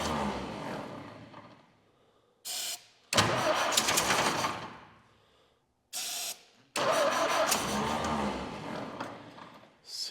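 The starter on an old 1932 Ford and Model T hot rod roadster, fitted with a leaking carburetor, cranks in two long loud bursts. Brief clanks and pauses separate the bursts.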